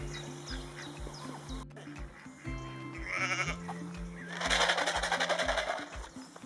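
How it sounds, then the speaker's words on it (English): Llanwenog ewes and lambs bleat repeatedly on a farm, several calls overlapping at varying pitches, fairly close. A brief rustling burst intrudes midway. "So these guys are our Llanwenog sheep."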